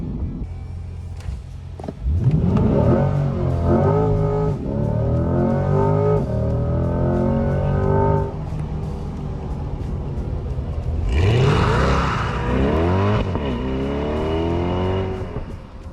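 A mid-engine sports car accelerates hard twice: the engine climbs through the revs in rising sweeps, drops briefly on each gear change, then pulls again loud and close, with no talking over it.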